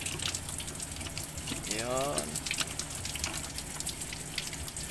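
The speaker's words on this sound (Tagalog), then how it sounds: "So kung mapapansin nyo, tumutulo na yung kanyang tubig sa block" Old coolant runs and drips out of an engine block drain plug, a close, steady watery trickle with a brief gurgling swell partway through, and a voice murmuring faintly nearby.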